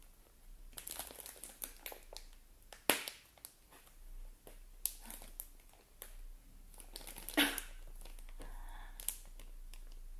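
A pencil is poked through a plastic bag: crinkly plastic rustling with a few sharp crackles and pops, close and fairly quiet, in short bursts with pauses between.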